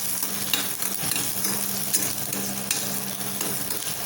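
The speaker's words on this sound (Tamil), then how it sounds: "வெங்காயம் நல்லா வதக்கிக்கலாம்." Chopped large onion sautéing in a pan for cabbage kootu, a continuous close sizzle with faint scraping stirs scattered through it.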